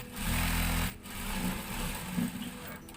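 A sewing machine stitching a blouse, running in a steady close whirring burst, pausing briefly, then continuing at a slightly lower, rattling level until the end.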